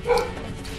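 A single sharp, high dog bark or yip sounds in Terraria Journey's End in the desert caverns, close and clear at the start and fading quickly over a low game background.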